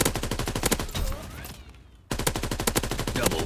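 Rapid automatic gunfire from the World War II shooter video game Call of Duty WW2, loud and close, broken by a brief lull and then resuming in a fast, even burst.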